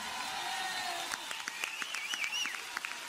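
An audience applauds singer Pepa Flores on stage, sustained clapping from a crowd with a few sharper individual claps and faint cheering over it.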